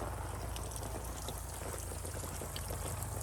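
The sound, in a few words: water running onto garden onions and broccoli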